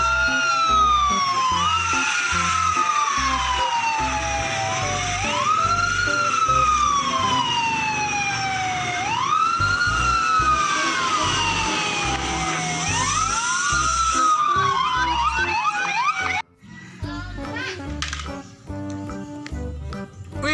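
A toy fire truck's siren wails in repeated rising and falling sweeps, loud and close, then stops abruptly and gives way to fainter clattering and handling noise.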